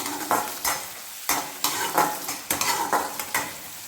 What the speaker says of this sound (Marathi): कांदा लाल होईपर्यंत आपल्याला यामध्ये परतायचा आहे।